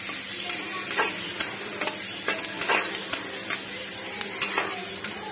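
Curry leaves and onion frying in a pan for a brinjal fry, a steady close sizzle broken by scattered stirring scrapes and clicks of a utensil against the pan, with no talk.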